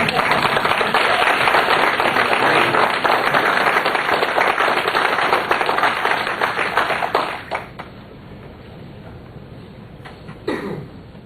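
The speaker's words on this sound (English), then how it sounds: "stand back up and applaud these two gentlemen" A standing crowd at a congressional campaign announcement gives sustained applause that thins out and fades after about seven seconds, leaving scattered claps and a brief noise near the end.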